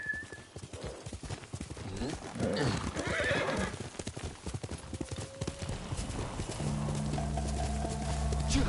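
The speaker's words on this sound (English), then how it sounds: "Horse!" A horse neighs loudly amid clip-clopping hooves in Ghost of Tsushima, with voices talking over it and a steady tonal hum rising near the end.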